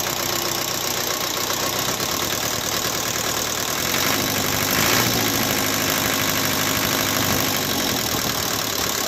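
A car engine idles steadily after being driven through floodwater that got into the intake, with a continuous mid-pitched rumble and a slight knock, loud and close, with no talking.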